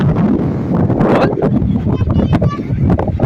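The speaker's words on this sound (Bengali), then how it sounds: "ফুটফুট ফুটফুট করে হাওয়া দিচ্ছে, উড়ে যাবো আমরা।" Strong sea wind at Puri beach buffets the microphone in loud, uneven gusts and rumbles, with voices faintly mixed into the roar.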